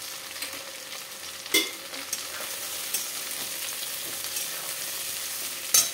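Onions sizzle in oil alongside drumsticks and potatoes, a constant bright crackling fry near the pan, broken by a few soft knocks of a spoon stirring, with no talking.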